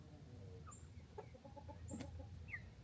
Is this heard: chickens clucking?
yes